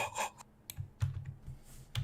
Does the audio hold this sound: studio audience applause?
no